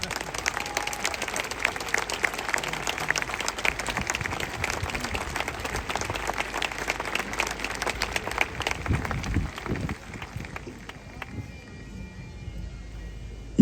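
Warm applause from a large outdoor crowd at the Braemar Gathering in Scotland, dense steady clapping that carries on for several seconds before thinning out and fading.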